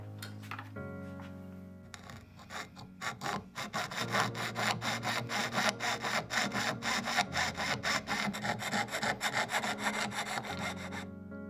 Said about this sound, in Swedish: Så nu kan jag såga av den.